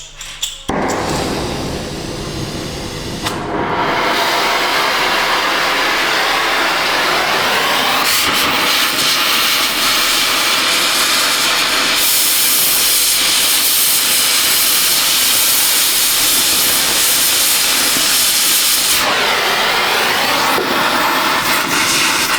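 A torch heats seized exhaust bolts under a GMC Acadia during an exhaust repair. It gives a loud, steady roaring hiss that holds for about twenty seconds with small shifts in tone.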